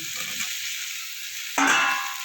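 Cabbage cooked with spices sizzles in a pan, then pre-fried potatoes go in with a sudden louder burst of frying hiss and stirring near the end.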